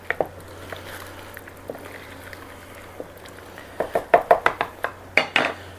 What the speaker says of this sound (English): let me just mix that in really well